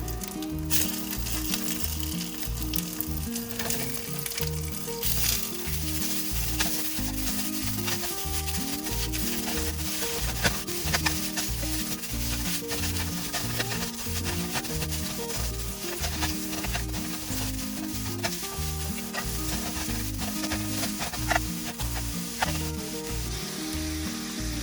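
Ground meat hits a hot pan already holding cilantro and jalapeños and sizzles steadily and loudly, with a low, regular tonal pattern running underneath throughout.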